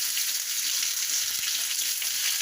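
Dried red chillies and curry leaves fry in hot oil, a loud, steady, close sizzle that holds evenly throughout with faint soft knocks of a stirring utensil underneath.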